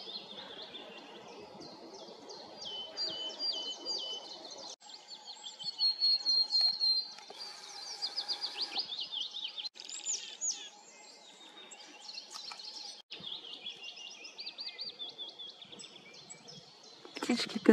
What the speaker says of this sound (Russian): Московка.